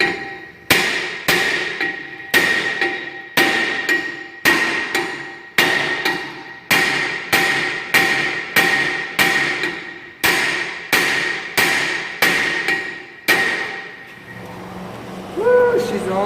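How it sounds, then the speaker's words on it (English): Repeated hard hammer blows ring out on metal while replacing the rear brakes on a 2008 Ford Expedition, roughly one strike per second, each with a short ringing decay, followed by a brief voice. "get a bigger hammer"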